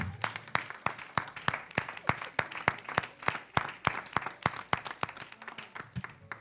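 A church congregation applauds together in rhythmic, even claps that are sharp and steady, a roomful of hands beating in unison for several seconds.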